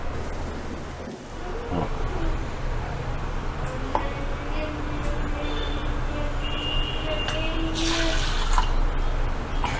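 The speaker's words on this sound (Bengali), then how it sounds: "এখন আমি কাপ মেপে জল দিয়ে দেব।" Water poured by the cupful into a pot of ingredients set to soak in a home kitchen: two cups' worth of steady, soft splashing and trickling under a constant low room hum.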